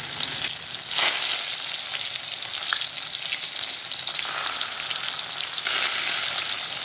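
Stuffed ash gourd leaf chops sizzle in hot mustard oil, a steady, close, bright crackle that runs unbroken throughout with small bursts of spitting and no voices.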